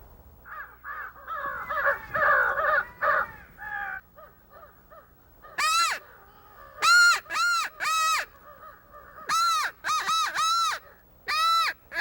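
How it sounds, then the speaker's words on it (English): Crows caw in a hunting setting: a close, hoarse series of calls opens, then loud, clear caws come in repeated bursts of two or three, ringing out across open air. "If we can get him to come in, he'll help call in the other crows."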